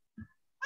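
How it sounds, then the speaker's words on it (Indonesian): A single cat meows briefly and softly right at the end after a moment of near silence, with a faint low thump just before it. "Ada suara kucing."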